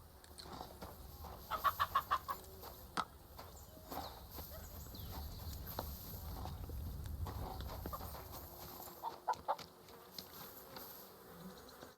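Horses in a stable in the video game Kingdom Come Deliverance 2, with hoof clip-clops, buzzing insects and barnyard fowl sounds at moderate distance; brief faint voices.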